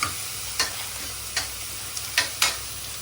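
Soft sizzling in a pan broken by several scraping stirs at irregular intervals, close by with no talking.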